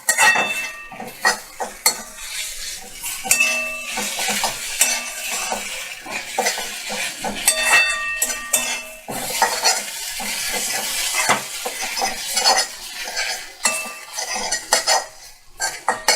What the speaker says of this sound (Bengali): দেখো এটা সুন্দর করে মিক্সড করে নিতে হবে।